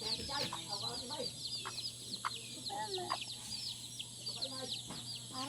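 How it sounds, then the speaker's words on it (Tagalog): A chicken clucking close by in a rural setting, with quick, repeated clucks and chirpy calls over a steady hum and high insect-like background drone. "The chicken."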